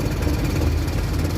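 A Suzuki F6a engine idles during an alternator charging test, giving a steady, close, low rumbling chug with an even pulsing rhythm and nothing else over it.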